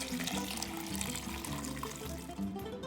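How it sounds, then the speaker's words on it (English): Chicken stock poured and strained from a pressure cooker into a stock pot, a steady continuous splashing liquid stream running close and loud throughout with no pauses. "Our chicken stock is ready, and now we need to strain it."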